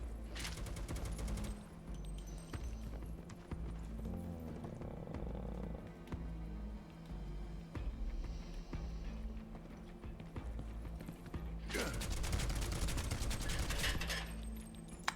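Gunfire in Final Fantasy VII Rebirth: bursts of rapid shots crack out at the start and again near the end, riding over a steady game soundtrack and effects bed.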